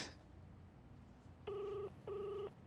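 A telephone rings twice in short electronic bursts with a brief gap between them, clear and fairly close against a quiet room.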